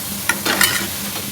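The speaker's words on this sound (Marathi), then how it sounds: "आता आपण टोमॅटो घालूया" Chopped tomato dropped onto onions frying in oil for Punjabi-style tadka Maggi sets off a steady close sizzle, with a quick scrape at the start and a couple of stirring swishes after.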